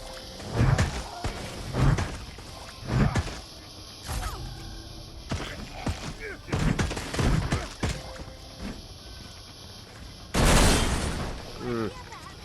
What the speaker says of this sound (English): This Gatling gun grenade combo was such a good find.